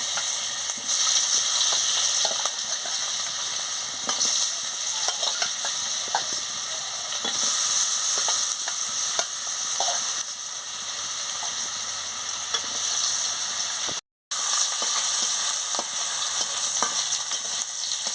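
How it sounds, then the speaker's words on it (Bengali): Potatoes fry in hot oil in a pan, a loud continuous sizzle close up, with the scrape and clatter of a spatula stirring them throughout and one brief cut to silence. "এবার আমি আলুগুলোকে লাল লাল করে ভেজে নিচ্ছি"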